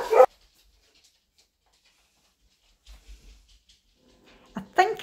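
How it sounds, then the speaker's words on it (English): A dog lets out a few short, close barks, one at the start and another near the end, separated by a quiet stretch with faint low thumps. "Excuse the dog's barking."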